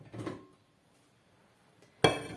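A spoon works poppy seed paste and oil together in a glass bowl, giving a short clink, a near-silent pause, then a sharper, louder clatter against the glass.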